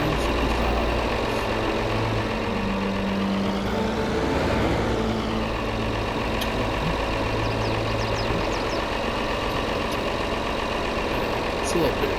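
A John Deere 4955 tractor in Farming Simulator 22 idles with a steady low rumble, rising briefly in pitch around the middle, while a voice talks over the engine.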